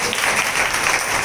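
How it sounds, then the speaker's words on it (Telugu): Loud applause from a church congregation, a thick continuous wash of clapping filling a short moment with no voices. "గట్టిగా చప్పట్లో"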